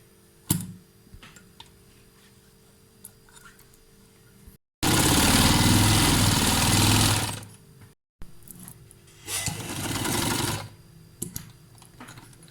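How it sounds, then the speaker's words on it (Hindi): A sewing machine stitches a capri trouser seam in two loud, close bursts of rapid, even whirring, with quiet handling sounds before and between the runs. "तो अब मैं सिलाई लगा के आपको दिखाती हूँ।"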